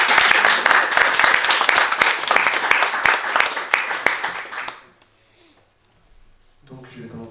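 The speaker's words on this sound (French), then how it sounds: "Et que nous pouvons applaudir." An audience applauds at a poetry book launch in a bookshop, loud dense clapping that lasts about five seconds and then stops abruptly, followed by near silence and a faint voice.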